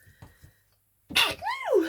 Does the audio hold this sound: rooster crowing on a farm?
no